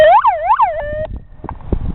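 A ZEV electric police motorcycle's siren rises and falls in two loud wails, then holds a steady tone before cutting off, leaving clicks and low handling noise close by.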